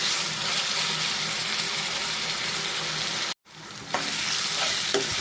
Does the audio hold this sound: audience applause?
no